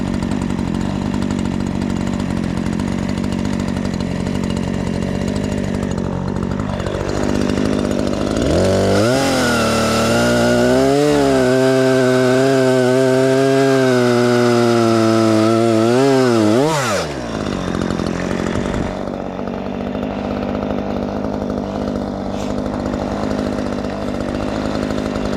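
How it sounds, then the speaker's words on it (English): A cheap chainsaw, chosen for cutting near metal, revs up and bites steadily through a wood log for several seconds, loud and close, then drops back to idle. "So I kind of use my cheapest chainsaw"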